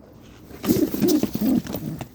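Pigeons coo close by in soft, low, throaty rolling calls, several short coos in quick succession over quiet background noise.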